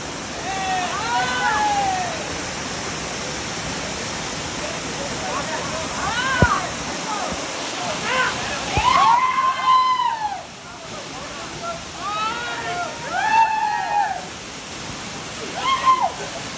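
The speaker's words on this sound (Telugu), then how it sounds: "ఇది వలస వాటర్ ఫాల్." Valasa waterfall pours steadily, a constant broad rush of falling water throughout, with people's voices and chatter breaking in repeatedly over the roar.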